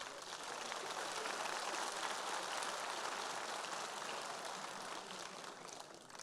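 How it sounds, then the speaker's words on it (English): Audience applause at a League of Legends LAN event in Warsaw, a sustained wash of clapping from a crowd in a hall, even and moderately loud before slowly easing off. "I brawo ode mnie dla was."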